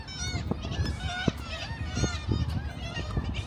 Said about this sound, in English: Can you hear all that? That's the seagulls up there.